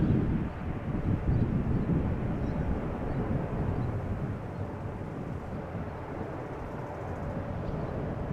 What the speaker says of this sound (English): This is KLM flight 611, 787-10 Dreamliner going to Chicago O'Hare.